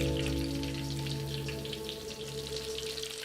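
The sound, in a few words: eggplant frying in a pan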